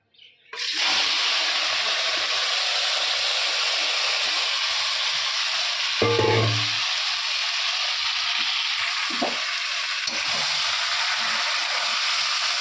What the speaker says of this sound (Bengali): এই যে তেল কড়াইতে দেওয়া আছে অলরেডি তো এই যে চিকেনটা আমি দিয়ে দেবো